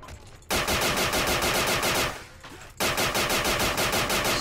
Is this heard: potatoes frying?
no